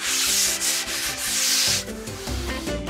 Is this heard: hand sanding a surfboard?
yes